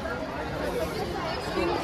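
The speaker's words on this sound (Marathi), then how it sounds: "मित्रांनो, गर्दी बघू शकता तुम्ही, खूप जास्त गर्दी एकदमच" Dense crowd chatter fills the busy wholesale fish market at Panvel's Uran Naka, a steady murmur of many overlapping voices close around with no single speaker standing out.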